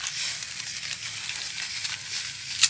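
A pot of broth on the boil with tutut rice-field snails cooking, giving a steady, close bubbling hiss throughout, with a brief sharper burst near the end.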